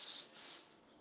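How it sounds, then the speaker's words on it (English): Two quick hissing bursts of cooking spray onto a pan in a kitchen, close and crisp, with a brief gap between them before fading to quiet. "spray up real good with some cooking spray"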